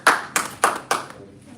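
Four distinct, evenly spaced claps ring out close by at a Toastmasters club meeting in a Lagos hotel, a small sparse round of applause that stops abruptly and fades into quiet.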